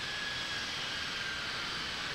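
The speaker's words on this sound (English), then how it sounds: "Like the engine's caught up and settle back down a little." Aircraft engine droning steadily in flight during an approach to Sky Harbor, a constant broadband roar filling the cabin from start to finish with no voices.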